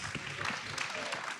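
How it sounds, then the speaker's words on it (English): A brewery crowd at a beer industry talk gives a short round of applause for the host brewery, a moderate spread of clapping with individual claps audible and some murmuring voices underneath. "Big round of applause for Great Divide for hosting"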